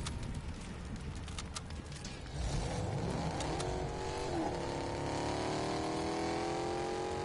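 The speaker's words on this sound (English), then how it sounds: "Fucking love this car." An in-game car engine in Fortnite Chapter 4 Season 4 revs up, its pitch climbing steadily over several seconds and holding at a loud, sustained drone close by, with gameplay noise underneath and no talk.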